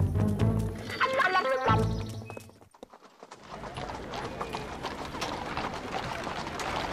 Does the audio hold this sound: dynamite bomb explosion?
no